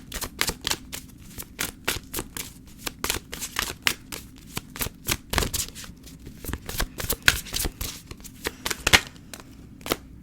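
Tarot cards are shuffled by hand in quick, crisp bursts of riffling and slapping, repeated steadily and close up, with no talk over them.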